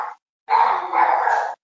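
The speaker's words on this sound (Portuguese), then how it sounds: "Agora, eu acho que você tem um cachorro." A dog gives a short yelp followed by a longer, strained bark-whine after a brief pause, close and clear with no talking over it.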